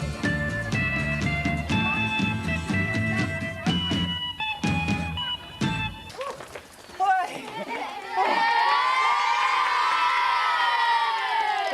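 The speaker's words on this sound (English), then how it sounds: "They're cheering for me, of course." Children in a classroom cheer and shout in an excited crowd, rising to a sustained loud roar of overlapping young voices and whoops, following a stretch of livelier mixed noise.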